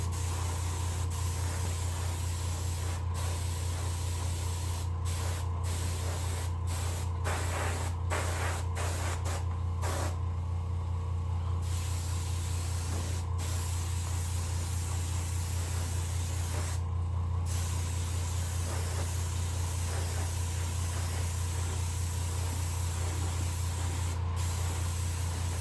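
Airbrush spraying white pearl paint onto a white crappie fish for taxidermy, a steady close hiss that runs the whole time over a low hum, broken by brief gaps and short clicks as the trigger is worked.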